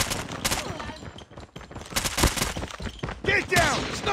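Gunfire from a Call of Duty: Mobile ranked match, with several sharp shots and bursts scattered through the clip amid game effects, while voices shout over the action.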